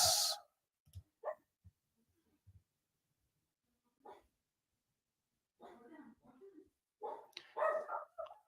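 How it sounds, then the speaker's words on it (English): A dog barks in short, scattered bursts, loud at first and then sparser, with faint yips and whimpers; later it turns into busier, overlapping barking toward the end, and no one speaks over it. "Dog's going nuts."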